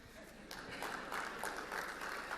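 Audience applause at a panel discussion on transitioning to entrepreneurship, a soft steady patter of many hands that rises after the first half second and carries on evenly, fairly faint and distant.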